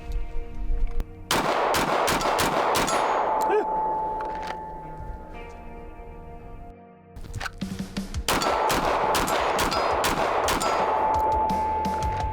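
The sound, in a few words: Browning Hi-Power pistol gunshots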